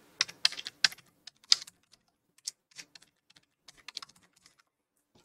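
A new password typed on a computer keyboard: quick bursts of crisp key clicks, fast at first and then sparser and slower, close and clear against near silence.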